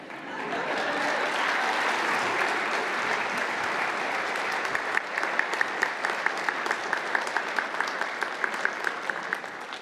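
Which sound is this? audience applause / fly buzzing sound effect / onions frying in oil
audience applause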